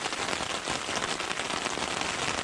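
Steady rain pours onto a surface outside a camp in Arizona, a dense, even hiss of drops close by, continuous and loud with no voices.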